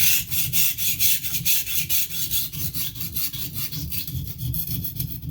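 Rhythmic, gritty scraping of a knife blade pushed back and forth across a Norton India combination stone, steady strokes repeating quickly and close up.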